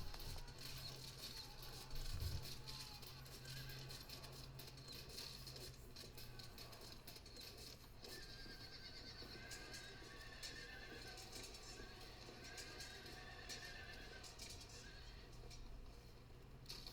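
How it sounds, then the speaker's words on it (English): Cataphract cavalry horses charge in the Field of Glory II strategy game, with steady clip-clopping hooves and repeated whinnies and neighs over a dense, continuous battle din. "Now the cataphracts are charging"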